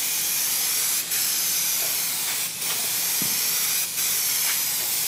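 Continuous loud hissing of an aerosol spray adhesive can for car headliner fabric, close up, with a few brief pauses as the nozzle is released and pressed again.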